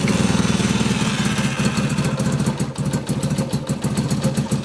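A motorcycle engine on full choke with a Colortune plug fitted, running on one cylinder. It runs loud and close with a rough, uneven putter that stumbles and misfires throughout. No one speaks.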